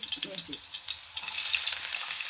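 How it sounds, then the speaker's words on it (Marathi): Potatoes and green chillies frying in oil in a pan for a fasting dish, a steady close sizzle with a few soft stirring knocks early on. "त्याला मऊ होईपर्यंत फ्राय करून घेऊया।"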